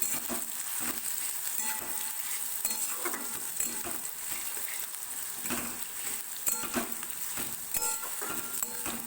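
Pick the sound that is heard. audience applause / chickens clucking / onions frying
onions frying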